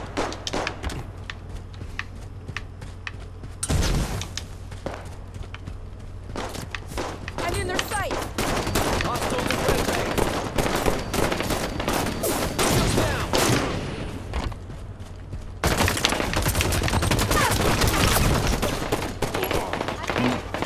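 Rapid enemy gunfire in Halo 5: Guardians crackles in dense automatic bursts with booms and footsteps, loud and close, while a player talks over the action.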